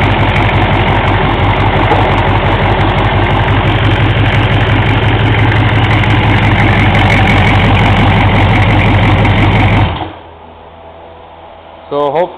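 A 6.5L turbo diesel engine with 8 degrees of timing and some blow-by, recently re-ringed, idles loud and steady with a rough, rhythmic clatter for about ten seconds before cutting off. A few brief knocks follow in the quiet.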